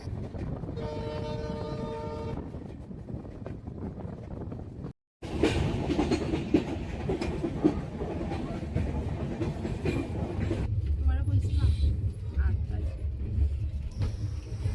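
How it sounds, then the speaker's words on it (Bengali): A passenger train rolls steadily through winding hill country, with a continuous rumble and rattle of the carriages heard from inside, broken by a brief gap midway. "তারপর আবার আমাদের ট্রেন চলতে শুরু করলো, আবার সুন্দর আঁকাবাঁকা পাহাড়ের মধ্য দিয়ে।"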